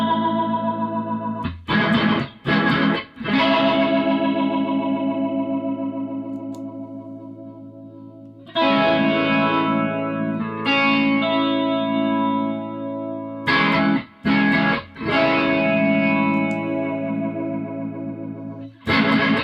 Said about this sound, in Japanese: フェイザーでもないしコーラスでもないみたいなね独特のやっぱ入れ方するのがこのロータリースピーカー系のサウンドだと思うんですけども